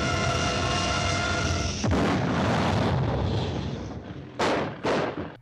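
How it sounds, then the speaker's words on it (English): A rocket breaking apart and exploding in Kerbal Space Program, a steady roaring engine rumble cut off by a loud blast, a fading rumble, then two sharp explosive bursts close together. "if you don't build things right, they tend to fall apart and explode."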